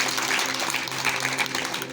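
A magic show audience breaks into continuous crowd applause during a magician's act. The thick, even clapping carries on for the full two seconds with no talking over it.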